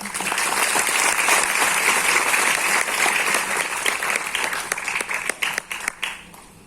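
An audience applauds loudly at an achievers' event, a thick sustained roar of clapping that gradually thins out into scattered individual claps before fading.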